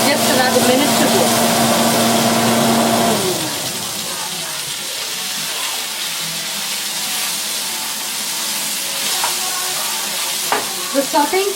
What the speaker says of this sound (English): The sauteing procedure will basically remove the moisture from both of these